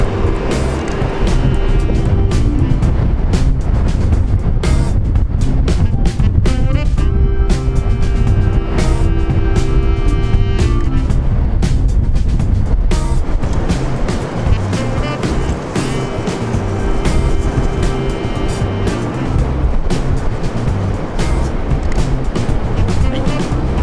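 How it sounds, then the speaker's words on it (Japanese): Continuous traffic near Tokyo Station at dusk as cars and buses pass, a dense steady rumble with engine hum and tonal whines rising and fading, busy urban noise throughout. "車の軌跡が、車とあとバスとかも通ったので"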